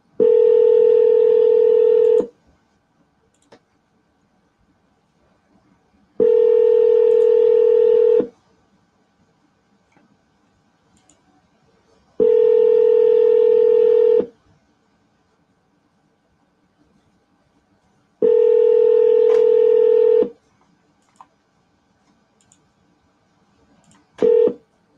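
Tones on an outgoing phone call to a sales lead: four steady electronic beeps of about two seconds each, spaced by long silent gaps in a slow regular pattern, clear and alone.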